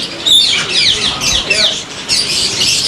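A hand-tame sunset lory parrot at a bird breeder's gives a rapid series of shrill, close squawks and chirps, loud and repeated over about three seconds.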